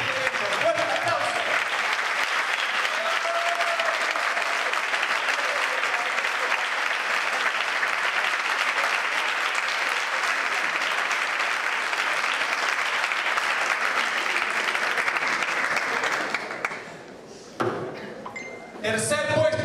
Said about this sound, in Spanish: quiero que el público le otorguemos un gran aplauso a todos los competidores que han participado en este evento